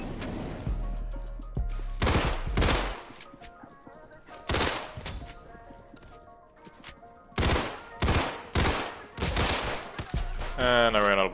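Beretta pistol fire in the video game Criminality rings out in sharp, loud shots, some single and some in quick clusters, spread across the stretch with short gaps; a voice comes in briefly near the end.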